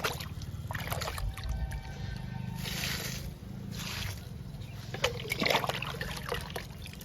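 Liquid fertilizer poured onto a potted jasmine plant makes a soft, quiet trickle and splash, rising in a couple of brief gushes before tapering off.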